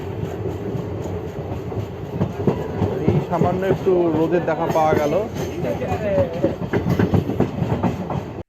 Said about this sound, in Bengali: ট্রেন প্রায় 40 মিনিট লেট করে আজিমগঞ্জ স্টেশনে ঢুকলো